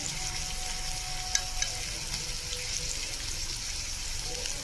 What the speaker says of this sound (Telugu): అలాగే సాల్ట్ 1 స్పూన్ వేసుకొని టమాటా మగ్గేంత వరకు బాగా వేగనివ్వాలి